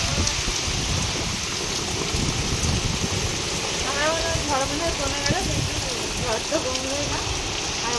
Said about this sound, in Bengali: ঝড় রাতের থেকে যেন সকালে বেশি হচ্ছে আরো